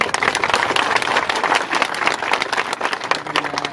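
An audience at a protest rally in India claps together, a dense, loud burst of rapid hand-clapping sustained throughout with a faint murmur underneath.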